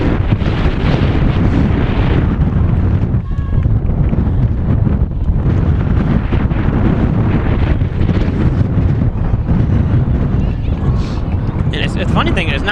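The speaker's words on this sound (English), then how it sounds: "Oh, this wind." Strong wind buffets the microphone at an outdoor varsity high school football game, a constant loud roar that blankets the scene while voices speak faintly beneath it.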